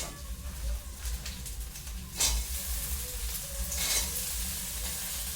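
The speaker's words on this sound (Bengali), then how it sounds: "এরকম করিয়া আমরা একটু ভাজিয়ে নেই খুব জোরে তেল দিয়া" Crabs frying in very hot oil, with a steady, close sizzle and crackle running throughout and brief louder spits of spattering oil.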